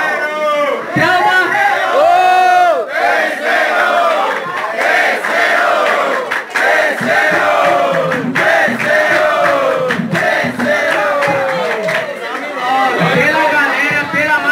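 A live crowd at a rap battle's duo-edition vote roars, chants and shouts in loud waves, with voices rising in excited cheers and chatter throughout.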